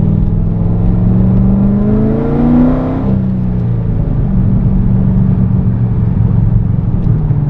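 A supercharged head-cam LS7 V8 in a C6 revs up loud and close, its pitch climbing steadily for a few seconds before dropping back to a deep, steady rumble.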